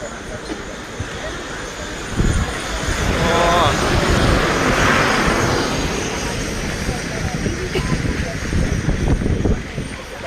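Logistics drones fly past at speed at an outdoor military event in Drass, Ladakh, making a steady broad engine roar that swells loudly midway, then holds with a rushing drone.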